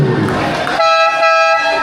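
A loud, sustained basketball game horn with a bright buzzy tone sounds after a burst of crowd noise, holding steady until the end.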